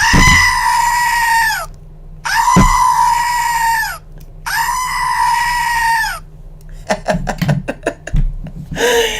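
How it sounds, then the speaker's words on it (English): A screaming goat lets out three long, loud, wavering cries in a row, each lasting over a second with short gaps between, followed by a few brief bursts of voices and noise at the end. "Did we scream with the goat yet?"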